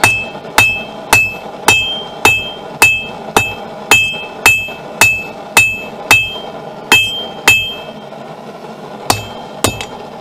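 Steel knife blank from mystery steel is hammered thinner on an anvil, about fifteen sharp, ringing metallic strikes at a steady, even rhythm, close and loud, each with a brief decay.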